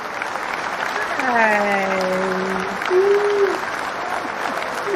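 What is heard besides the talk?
applause welcoming a speaker on stage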